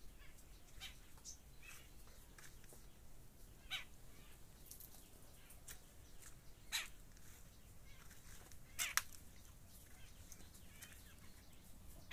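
Birds call sporadically in a very quiet spot near Ramdas Swami's cave at Jarandeshwar, Satara, with a few short, sharp chirps standing out over faint background hiss.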